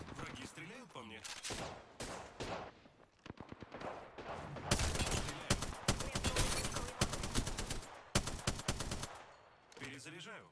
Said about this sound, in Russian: враги стреляют по мне